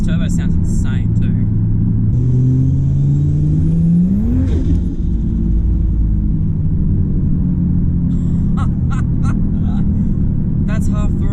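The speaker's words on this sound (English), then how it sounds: "This turbo sounds insane too." A big-turbo Ford Falcon XR6 accelerates hard at half throttle in third gear, a loud in-car engine drone rising in pitch with a turbo whistle climbing over it, then a sudden drop as the throttle lifts, with people talking over it.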